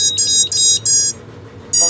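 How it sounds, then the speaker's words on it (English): A loud electronic low-battery buzzer on an F4 AIO drone build beeps in three long pulses, then a fourth starts after a short pause, close and piercing. "We got the buzzer we know worked."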